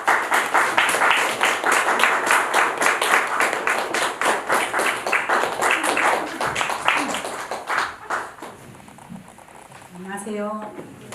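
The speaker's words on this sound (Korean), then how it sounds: "박수 한번 할까요?" A church congregation applauds during a Sunday service with dense, steady clapping that thins out and fades, followed by a voice starting to speak.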